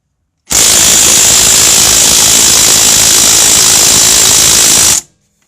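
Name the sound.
impact gun trying to loosen strut bolt on Ford Taurus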